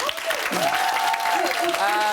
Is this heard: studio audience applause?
yes